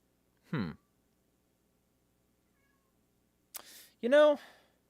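A cat meows to be let inside, with one short meow followed after a pause by a brief noise and a longer, louder meow, close to the microphone in a quiet room.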